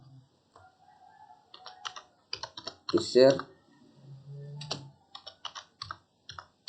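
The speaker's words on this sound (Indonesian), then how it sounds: "dengan cara kita mengetik" Keys clatter on a computer keyboard in irregular bursts of quick taps while a user is set up in a Node.js and MariaDB login setup, close and clear, with a voice speaking in between.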